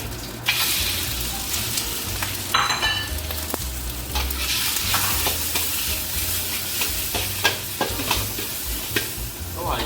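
Garlic sizzles and fries steadily in hot oil in a wok while being stirred, with loud continuous crackle and occasional scraping clatters of the utensil, close and unbroken, no voices.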